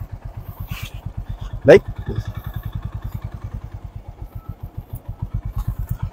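A motorcycle engine idles close by with a steady, even putter during a beginner's first-ride lesson on clutch practice, one brief louder burst partway through and someone speaking briefly over it.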